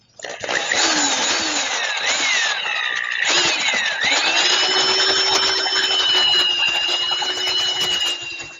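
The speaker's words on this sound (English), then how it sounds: "I'm going to drill a 5/8 hole from each side." A power drill whines loudly and close for several seconds, boring a 5/8-inch hole through a metal flagpole, its pitch dipping and rising under load.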